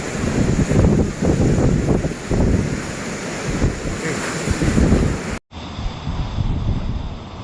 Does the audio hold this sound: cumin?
no